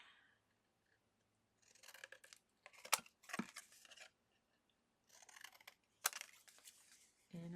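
Scissors snip through paper scraps for handmade artist trading cards in several quiet, close bursts of crisp cutting with short pauses between, faint overall with soft handling clicks.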